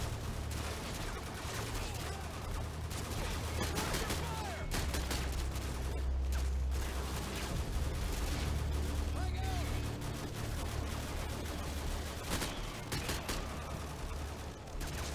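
Dense, continuous gunfire and explosions in a Call of Duty Modern Warfare 2 battle. Sustained volleys of shots run through the whole stretch, loud and close, with a voice talking over them.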